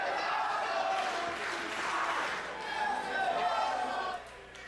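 Spectators at a wrestling match between Alex Shelley and Davey Richards roar and chatter as a broad, continuous wash of voices that swells and dips before fading near the end.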